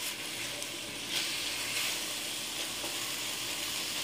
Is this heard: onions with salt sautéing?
yes